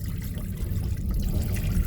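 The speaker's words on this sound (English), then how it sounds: "a sink with a trickle of water" A sink tap aboard a Caledonian Sleeper train lets a thin trickle of water run steadily, a soft continuous watery hiss heard close and alone for about two seconds.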